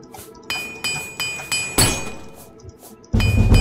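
A repair hammer in the video game Oblivion strikes metal repeatedly, several sharp ringing clinks at uneven intervals, close and fairly loud, ending in a heavier clatter.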